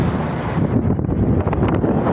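Steady roaring rush of wind buffeting the microphone, broadband and continuous throughout, loud and close.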